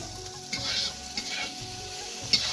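Food cooks in a pan at home and is stirred now and then; a soft sizzle runs underneath, with a few faint scrapes and clinks from the utensil, fairly quiet overall.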